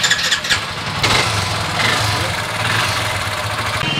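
A motorcycle engine starts at a repair shop and settles into a steady, rough mid-pitched idle, loud and close, with a few clattering knocks at the start.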